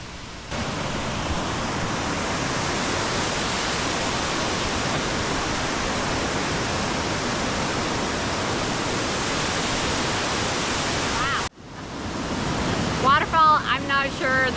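Steady, loud broadband roar of a waterfall along a lakeside canoe route, continuous for about eleven seconds, then a brief cut before a quieter stretch where a voice begins speaking over the rushing water.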